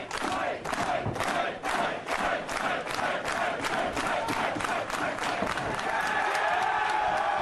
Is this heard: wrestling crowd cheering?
yes